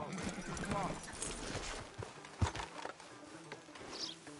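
Horse hooves clip-clop on a video game street outside a sheriff's office, a steady trot heard over game music and voices, with a louder thump partway through.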